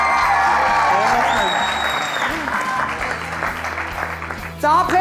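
A studio audience on a sports quiz show breaks into loud, sustained clapping close by, with a presenter speaking over it.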